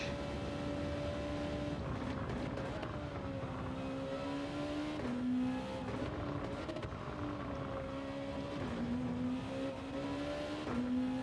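Honda NSX race car engine in a racing video game, a steady loud drone with pitch rising and dipping as the engine revs and shifts through gears, continuous throughout.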